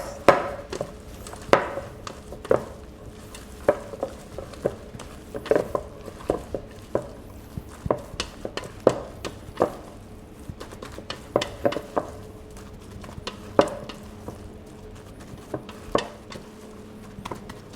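Chicken stuffing mixture is mixed by hand in a bowl, giving repeated soft wet squelches and light taps in an uneven rhythm, close and fairly quiet.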